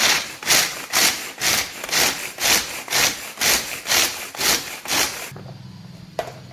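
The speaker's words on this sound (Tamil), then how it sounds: "ஸோ இது எல்லாத்தையுமே நான் இந்த சாப்பர்ல போட போறேன், எங்கிட்ட உள்ள இந்த சாப்பர்ல." Nuts being finely chopped in a food chopper, heard as about ten evenly spaced grinding bursts, each rising and falling, close and fairly loud, with no talk, ending in a quieter hum and a small knock.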